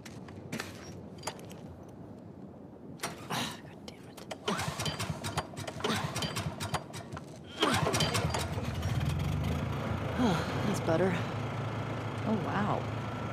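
A generator engine sputters and catches in The Last of Us Part II, with irregular clattering turning into a steady running drone, while a voice talks over it.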